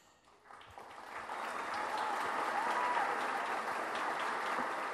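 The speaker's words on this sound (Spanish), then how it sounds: "Los aplausos de reconocimiento a nuestro ilustre invitado con el premio oportuno" Applause for an honoured guest receiving a diploma at a gastronomy lecture ceremony, starting sparse and quickly swelling into steady, moderately distant clapping from a seated audience.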